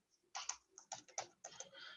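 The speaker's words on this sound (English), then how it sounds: "So when I started typing the name, what will happen?" A computer keyboard clicks as a name is typed into a form's input box: a short burst of quick, close keystrokes in uneven clusters, clear and unaccompanied by speech.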